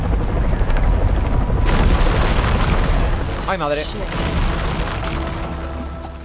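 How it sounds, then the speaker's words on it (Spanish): Rocks collapsing in the video game Shadow of the Tomb Raider, a loud booming rumble with crashing debris that fades into lingering low noise, while a person briefly exclaims partway through. "Derrumbes, vale."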